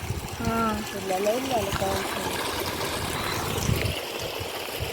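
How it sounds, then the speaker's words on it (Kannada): A stream spills over a small waterfall near paddy fields, giving a steady, rushing wash of water throughout, with people talking over it. "ಸೂಪರ್ ಸಣ್ಣ ಫಾಲ್ಸ್"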